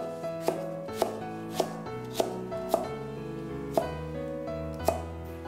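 A knife chops ginger and garlic on a board, nine or so sharp, evenly spaced strikes about half a second apart over steady background music, with no voices.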